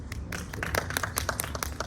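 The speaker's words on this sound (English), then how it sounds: "a round of applause" Short burst of scattered hand clapping from an audience at a charity art auction launch, a few distinct claps fairly close, light and uneven.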